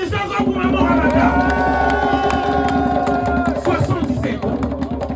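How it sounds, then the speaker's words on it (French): An audience applauds and cheers loudly in a big hall, a dense roar of clapping mixed with shouts and crowd babble that stays strong before easing slightly at the end. "Applaudissements pour Maman Ramata."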